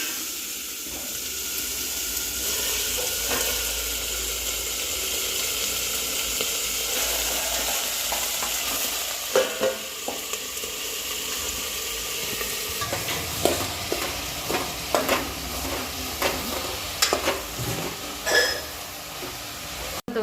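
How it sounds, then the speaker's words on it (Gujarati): Cabbage being tempered in hot oil in a home kitchen, a steady sizzling hiss with stirring clatter and scraping that grows busier and more clattery near the end. "વરસાદ દીદી શાક વઘારે છે"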